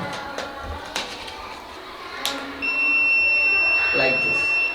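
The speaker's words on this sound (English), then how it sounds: "this IR sensor detects and gives us a beep sound through the buzzer" A buzzer in a school student's IR-sensor security model sounds a steady, high electronic beep. It starts partway through and holds to the end, over background chatter and room noise.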